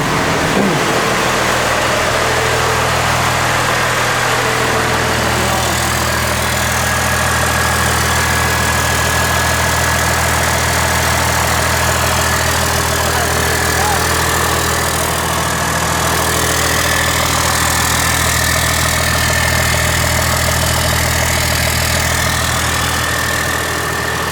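Cummins diesel engine swapped into a Chevy truck, running steadily in a shop, a loud continuous idle with a deep low rumble and faint knocking, heard alone without talk.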